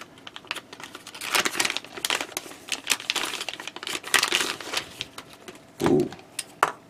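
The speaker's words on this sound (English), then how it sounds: "A Ziploc bag, black Ziploc bag." A black plastic Ziploc bag is pulled open up close, giving rapid, irregular crinkles and crackles in bursts, with a heavier rustle near the end.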